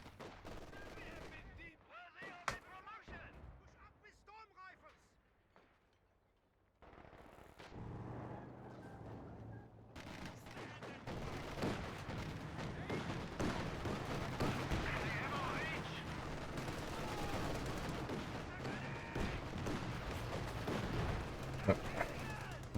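Mortar fire shelling a trench in a real-time strategy video game match, with scattered shots and thuds early on giving way to dense, continuous rumbling gunfire and artillery bursts that stay loud to the end.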